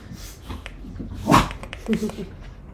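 Dogs yipping and whimpering in the background of a room, with one sharper bark in the middle, while people talk over them.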